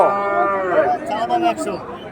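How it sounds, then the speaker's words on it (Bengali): Crossbred bull calves at a rural cattle market moo in a loud, close, drawn-out low call, with crowd chatter around them. "গরু খুব ঝামেলা করতেছে"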